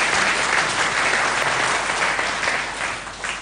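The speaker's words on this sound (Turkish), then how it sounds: "kucak dolusu bir alkış gönderelim dostlar" Studio applause on a Turkish television show, a dense, loud burst of many hands clapping together that holds steady and then eases slightly toward the end.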